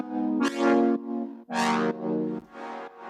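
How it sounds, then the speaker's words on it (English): Diva retro-style software synthesizer playing a sequence of sustained chords, each swelling in with bright, buzzy harmonics then easing off, heard clearly and alone with no voices. "I've picked a Diva, which is a nice retro vibey synthesizer. And at the beginning it was playing this."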